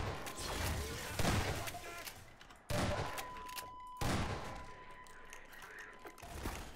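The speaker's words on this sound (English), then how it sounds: "Oh, more shooting." Gunfire in a first-person shooter video game, with several loud bursts of shots rising sharply at intervals amid continuous combat noise and echoing booms.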